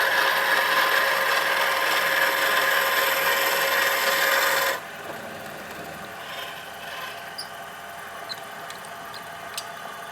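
Boring bar taking a ten-thousandths-deep cut in metal on a lathe, a steady dense hiss that stops sharply about halfway, leaving a quieter hum with a few faint clicks.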